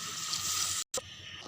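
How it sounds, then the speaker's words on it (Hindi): Four glasses of water are poured into rice for Punjabi chicken yakhni pulao. The close, steady splashing pour breaks off briefly in the middle and then resumes more softly. "तो अब इसके अंदर पानी ऐड कर देंगे 4 गिलास।"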